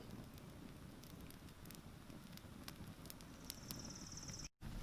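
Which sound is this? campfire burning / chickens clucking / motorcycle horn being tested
campfire burning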